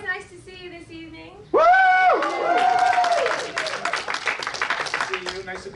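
An evening magic show crowd breaks into loud clapping after someone speaks, the applause swelling and then thinning as his voice returns over it.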